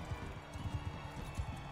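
Horse hooves clip-clopping in a steady, rapid rhythm while riding in a video game, muffled and mid-level under a dense background mix.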